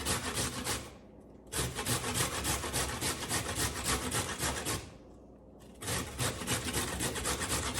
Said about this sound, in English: what I do is I grate them on my grater